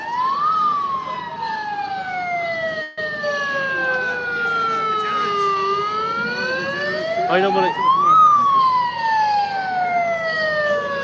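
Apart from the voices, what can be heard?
police motorbike siren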